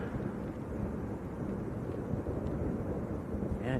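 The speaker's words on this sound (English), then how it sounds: "Yeah, John's saying it sounds windy." Steady, rumbling wind buffets the microphone at Lanzarote Arrecife Airport, a constant low roar with no clear gaps and no talking.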